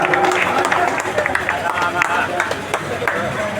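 Crowd at an election campaign rally in Kalayat breaks into steady, dense applause and clapping, loud and continuous throughout, with voices mixed into the noise.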